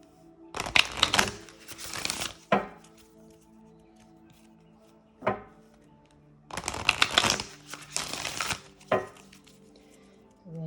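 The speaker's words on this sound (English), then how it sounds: "And we'll pull some more cards." Tarot cards are shuffled in two long riffling bursts, close and crisp, separated by a quiet gap with a few single card taps.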